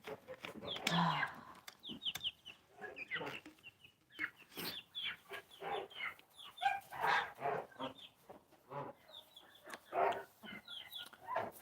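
A pet hen, newly joined to a backyard flock on her first night, clucks and chatters in repeated short bursts nearby, with other fowl calling around her.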